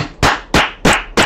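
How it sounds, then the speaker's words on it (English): A congregation claps in unison, four loud, sharp bursts at an even beat of roughly three per second, close and full, with no talking over them. "clap for God"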